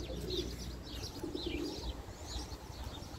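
Pigeons coo softly and repeatedly nearby, with a few chirps and faint fluttering against a low background rumble.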